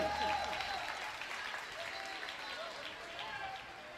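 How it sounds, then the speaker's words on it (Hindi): Audience clapping loudly at a Jain religious gathering in Bhopal, a dense steady wash of applause through the whole stretch, with voices faintly mixed in beneath it. "ताली बजा जोर से"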